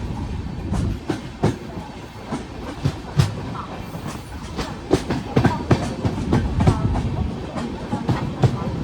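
Passenger train pulling into platform 1 at Karwar station on the Konkan Railway, with steady rolling rumble and irregular clacks of wheels over rail joints building through the clip, close and fairly loud.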